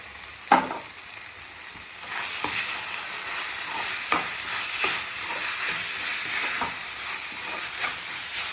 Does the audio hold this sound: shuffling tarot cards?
no